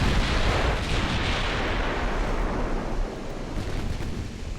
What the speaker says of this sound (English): Full broadside authorized.